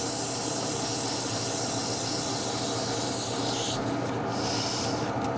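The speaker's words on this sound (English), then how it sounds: "Sand that little surface." Sandpaper rubbing against a spinning wood turning on a lathe, a steady close broadband hiss that runs unbroken throughout, its brightness dropping partway through as the pressure eases.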